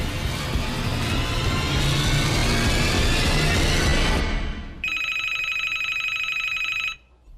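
A telephone rings with a bright, steady electronic trill lasting about two seconds, cutting in after a loud rushing vehicle-like roar dies away, then stopping abruptly.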